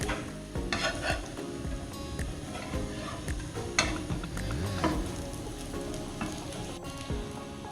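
Potato patties frying in a pan after being flipped, a dense continuous sizzle with frequent scraping and clinking of a spatula against the pan, fairly close.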